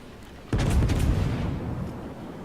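A salvo from warship gun turrets in the naval battle game World of Warships: one sudden heavy boom with a short cluster of sharp blasts, then a deep rumble that lingers and slowly decays.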